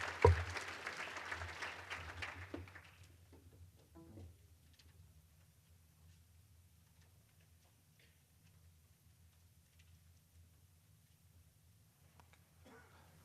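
Applause at a STEM education keynote greets the speaker: a burst of clapping from the audience for about three seconds that quickly fades into a quiet room hum.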